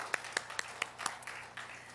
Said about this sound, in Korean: 우리 잘 살라고 마음에 응원을 담아서 박수 한번 쳐줍시다.